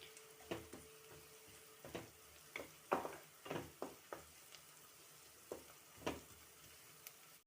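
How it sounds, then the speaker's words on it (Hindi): Sliced green chillies frying lightly in oil for a tomato onion chutney: quiet background sizzle broken by a series of irregular spatula scrapes and taps against the pan, about a dozen strokes. "ये देखिए मिर्च हल्की सी फ्राई हो गई है, हरी मिर्च"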